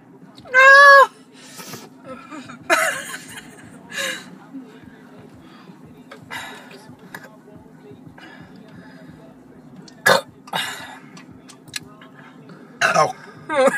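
Loud burps after drinking soda in a challenge, several separate bursts spread across the clip, mixed with voices talking and laughing between them.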